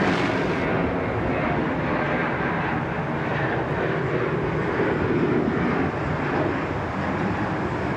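A jet airliner departs Sydney Airport, its engines a loud, steady broadband roar that fills the whole stretch without a break, heard alone with no talk over it.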